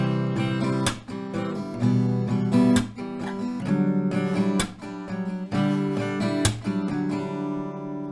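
Acoustic guitar strummed in a steady rhythmic pattern that emphasizes the beat, with sharp percussive down and up strokes recurring about once a second, played close and alone without talking.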